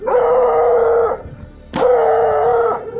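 An American Foxhound lets out two long, loud, mournful howls, each held for about a second with a short gap between them, close and alone.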